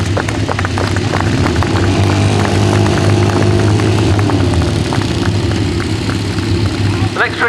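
Royal Signals White Helmets display team motorcycle engines rumble and rev steadily throughout an arena reverse-riding trick, loud and close, with an announcer talking over the engine noise.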